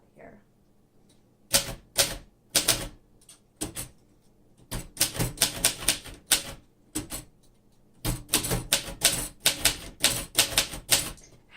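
Keys clack on a 1950 Royal Companion vintage typewriter with black glass keys, in fast bursts of sharp, close strikes separated by brief pauses, loud against a quiet room.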